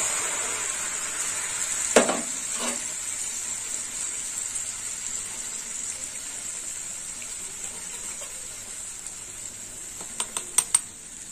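Mustard paste frying in oil with eggplant, a soft steady sizzle throughout, with a few brief clinks of a utensil against the pan.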